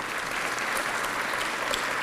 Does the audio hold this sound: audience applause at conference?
yes